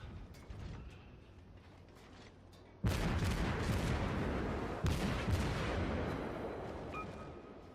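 Naval gunfire from the Omaha cruiser in World of Warships: two heavy booming salvos of high explosive shells, each followed by a long rumbling decay, preceded by quieter mechanical clatter and distant shots.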